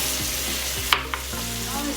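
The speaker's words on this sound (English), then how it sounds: "So now you can cook until the tomato will be soft." Tomatoes fry and sizzle in a pan for a Nepalese vegetable momo filling, a continuous close hiss with a couple of brief stirring scrapes.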